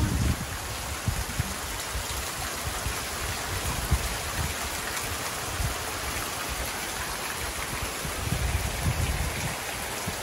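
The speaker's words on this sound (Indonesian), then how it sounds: "Iya mah hujan teh ka etang ageungnya mak" Heavy rain pours over a rural village, a dense, steady hiss that fills the air without break, with no voices over it.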